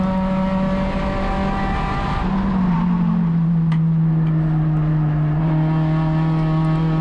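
An Acura RSX race car at Sonoma Raceway, heard from on board, holds a loud, sustained engine drone that dips briefly, then climbs again as the throttle opens, with a steady rising pitch.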